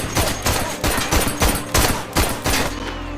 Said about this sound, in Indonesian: tembakan Luke meleset saat hendak membunuh anak kecil